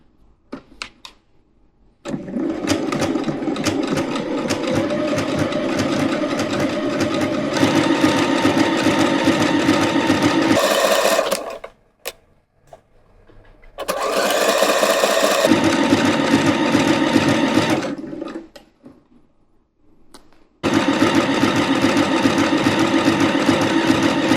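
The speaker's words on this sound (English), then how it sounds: "I'm using a triple straight stitch" A sewing machine runs a triple straight stitch while making a pistachio shell bikini, whirring steadily in long bursts of several seconds, each separated by short pauses and clicks, close and loud with no talking.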